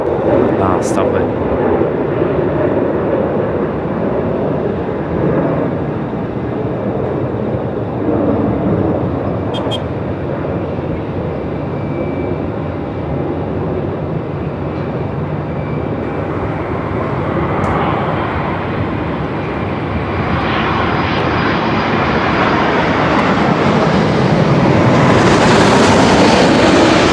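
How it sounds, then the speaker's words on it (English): An Etihad Boeing 787 Dreamliner takes off at Melbourne Airport, its engines a steady, loud broadband roar that swells toward the end, with people talking over it. "I got a Dreamliner here"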